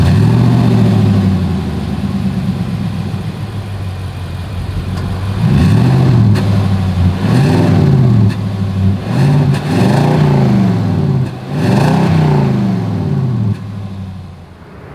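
A 2024 Nissan Titan SV pickup with a single exhaust outlet idles and then revs repeatedly, five or six close, loud throaty swells rising and falling in quick succession before settling back toward idle.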